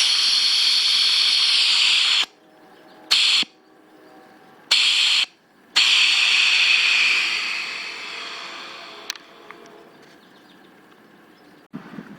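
Air rushing through the opened valve of a Pittsburgh Automotive 6.25-gallon oil extractor, a loud bright hiss cut off and restarted in several bursts, then a long hiss that fades away, with a few faint clicks at the end.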